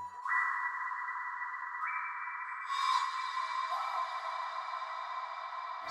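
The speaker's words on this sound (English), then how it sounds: "reverbed out Simplant synth." Heavily reverberated Simplant synth lead with softened attack and pitch automation, sustained tones stepping upward in pitch across the bar, played alone with a long washy tail.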